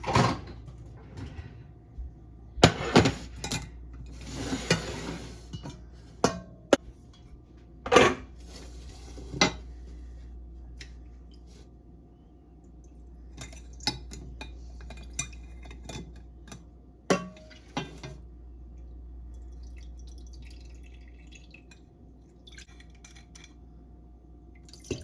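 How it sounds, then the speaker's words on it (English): Dandelion honey being strained through a strainer into a measuring cup: scattered clinks and clatters of metal and glass kitchenware, sharp and close, spread unevenly over a quiet room hum with no talking. "So now I'm getting ready to strain it. Get me out a measuring cup and a strainer."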